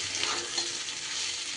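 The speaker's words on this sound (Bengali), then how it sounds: "একটু বাদামটা দিয়ে এইভাবে নাড়িয়ে চাড়িয়ে দিতে হবে।" Ground roasted peanuts are stirred into steamed ivy gourd in a pan, producing a soft continuous hiss and sizzle with light scraping. The sound is fairly quiet and brief, with no voices.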